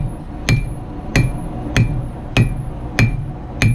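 A hammer strikes a forged knife blade at a blacksmith's shop, six sharp ringing metallic blows at an even, steady pace, loud and close with no talk.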